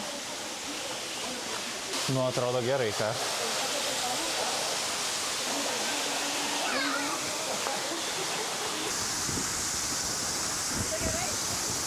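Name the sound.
water splashing from waterfall fountain in Madeira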